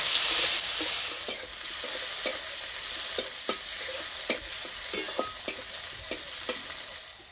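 Chopped ginger, green chillies and tomato fry in mustard oil tempered with five-spice, dried chillies and bay leaf, a steady close sizzle punctuated by regular sharp taps of a spatula stirring the pan, with no talk.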